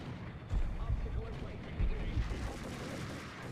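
Heavy gunfire from the Max Payne video game: dense, rumbling volleys of shots with booming low-end bursts, sustained and loud throughout, with a voice faintly mixed in.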